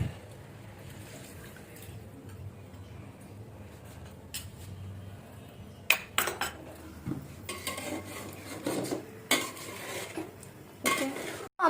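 A cornflour slurry goes into vegetables cooking in a pan, with a low simmering sizzle underneath, then a series of sharp metal spoon scrapes and clinks against the pan as it is stirred.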